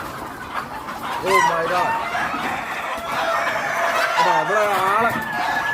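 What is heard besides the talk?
chickens clucking and rooster crowing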